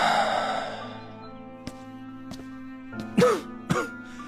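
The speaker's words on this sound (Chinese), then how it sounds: "到底听到了书房里压抑的惊心的咳嗽声" Suppressed coughing in a study, staged as an audiobook effect: a soft, low throat-clearing rasp followed by a few short, muffled coughs, close and alone, with no voices.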